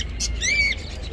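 A single bird at a bird market in Medina gives a short, bright chirping call, close and clear over a low background hum.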